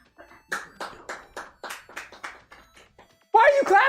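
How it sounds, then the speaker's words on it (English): Several sharp hand claps sound close by in an uneven run, then a louder burst of voices and laughter breaks in at the end. "Why are you clapping?"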